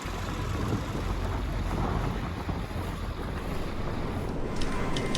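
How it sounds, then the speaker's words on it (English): Steady wind roars across the microphone aboard a Lagoon 440 sailing catamaran in gusty conditions off Sardinia, with water rushing against the hull beneath the continuous buffeting, close and loud throughout with no voices. "It's still a bit windy."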